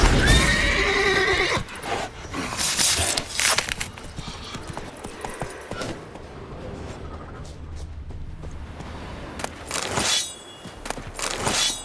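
In The Witcher 3: Wild Hunt, a horse gives a loud, close whinny and then gallops on with clip-clopping hooves amid clinks and breaking sounds.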